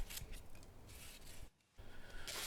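A small cockpit cutout is cut into the middle wing of a Fokker Dr 1 model plane, heard as close, quiet rasping snips and rubbing strokes with a short pause midway; no one talks.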